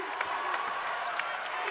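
A women's college basketball crowd at Ohio State, playing Illinois, cheers and claps in a steady, loud wash after a Buckeyes run, with scattered sharp claps and whoops rising from the continuous roar.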